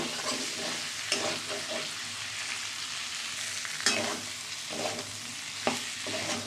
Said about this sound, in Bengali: একটু ভালো করে কষানো নেব।